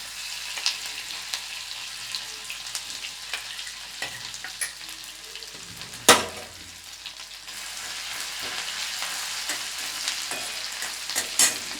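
Five-spice seeds and a spoonful of ginger paste fry in a pan for spicy pitha, a steady soft sizzle broken by scattered clinks and scrapes of stirring, with one sharp knock near the middle.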